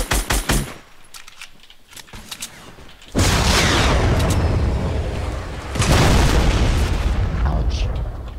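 Rocket launcher blasts in a multiplayer shooter game, with quick clicks and shots at first, then a loud explosion that roars on, followed by a second heavy blast that keeps rumbling, close and dense.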